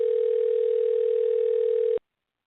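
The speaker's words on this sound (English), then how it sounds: "we're going to dial him up and get Marty on the horn" A steady telephone dial tone holds at one pitch for about two seconds, then cuts off abruptly and leaves silence, with no voices over it.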